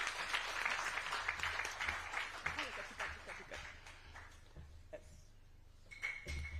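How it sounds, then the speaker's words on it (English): Applause from the audience at a ministerial food-systems forum, dense clapping filling the room at first, then thinning to scattered claps and fading under a speaking voice toward the end. "Please, a round of applause to yourselves."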